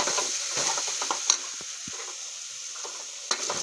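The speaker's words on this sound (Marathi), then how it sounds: "गरम मसाला, धनिया पावडर आणि जिरा पावडर टाकून घेऊ। यालाही छान परतून घेऊ।" Garam masala, coriander powder and cumin powder frying in hot oil in a home kitchen, with a steady soft sizzle and scattered scraping stir strokes, including a couple of sharper clinks, close and alone.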